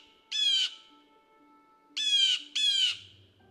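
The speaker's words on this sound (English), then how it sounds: "A blue jay sounds like this." A blue jay gives three harsh, nasal squawks, one alone and then two in quick succession, each clear and fairly close against a quiet background.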